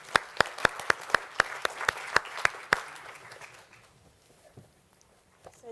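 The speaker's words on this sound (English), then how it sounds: "Warm round of applause for Wedge Technologies," A small audience at a university entrepreneurs challenge pitch-off claps for a wind-technology startup team. Crisp, regularly spaced claps from only a few hands are heard nearby, then they die away after about three seconds into quiet room tone.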